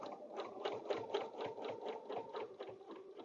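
Sewing machine quilting stitches along a Sweet Pea table runner, a steady close rapid rhythmic whirr of needle strokes running without pause for a few seconds.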